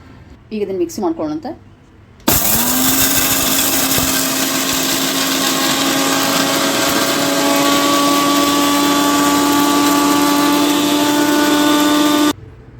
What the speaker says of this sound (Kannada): ಈಗ ಇದನ್ನು ಮಿಕ್ಸಿ ಮಾಡ್ಕೊಳ್ಳೋಣಂತೆ